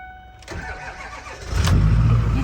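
A 6.4 Powerstroke diesel truck engine cranks briefly, then catches and settles into a loud, low rumbling idle close by.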